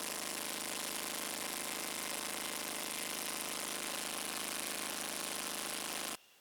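A Scag Turf Tiger 61 mower engine with a bad coil runs steadily, a dense, loud, continuous mechanical drone close by that cuts off abruptly near the end.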